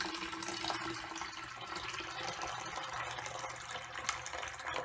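Humic acid supernatant liquid is poured off a settled solution, producing a faint, steady watery wash that continues evenly throughout.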